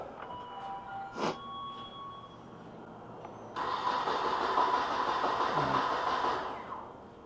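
A 1995 Nissan Altima with a 2.4L engine, prone to stalling and no-start, quiet at first, then a sudden loud, rough burst as it cranks and catches, running steadily for several seconds before cutting out.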